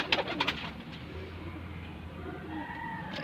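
Pigeons coo in a low, soft, repeated rumble close by, with a few sharp knocks or flutters at the start.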